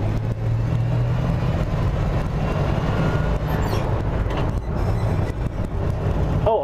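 A 1965 Chevrolet C20 pickup engine droning steadily while driving and shifting, a loud continuous low rumble with road noise, heard from inside the cab and without talk.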